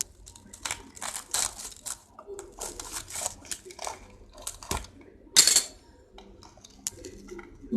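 Cutlery cutting into a cheesy tandoori onion ring stuffed with paneer and cheese, with a series of scraping, tapping knife and fork sounds on a plate and one sharper clink near the end.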